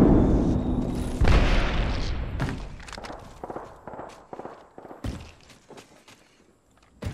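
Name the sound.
Arc Star grenade detonating in Apex Legends video game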